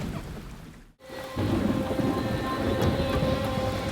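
A thunderstorm with heavy rain pours down on open water around a small boat, steady dense rainfall with low rolling thunder, loud and close, breaking briefly before the downpour swells again.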